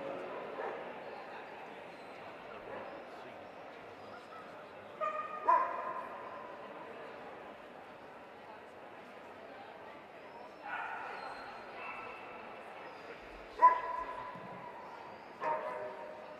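Dog barks ring out in short bursts at a dog show, around the smooth-haired Dachshund that won best of breed. The bursts come in clusters spread through the clip, and a steady murmur of voices runs underneath.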